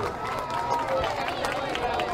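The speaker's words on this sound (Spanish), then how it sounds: "Fuerte el aplauso, sí." Audience applause at a patriotic school ceremony, a dense steady wash of clapping blended with crowd chatter and voices throughout.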